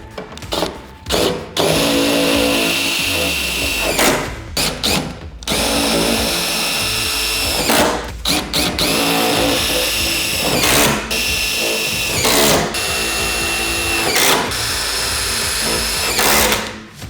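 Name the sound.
power drill driving stainless steel screws into aluminum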